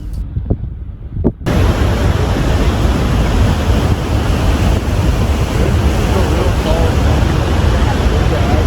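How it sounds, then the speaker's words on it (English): Niagara Falls thunders in a loud, constant, wide roar of crashing water that bursts in after a brief quieter opening and continues unbroken, close and overwhelming. "the water is really, really unbelievably powerful and real noisy."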